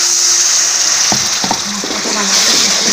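Water splashes into a pan of frying spice masala, a steady sizzle and hiss with a few short bursts and bubbling as it hits the hot oil, close and fairly loud with no talk.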